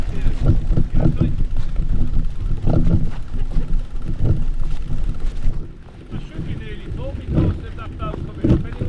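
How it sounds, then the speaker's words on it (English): Low engine rumble and water churning of a boat moving slowly into a canal lock on the Tardebigge Flight nearby, with wind buffeting the microphone and a voice talking over it. "This boat's coming in."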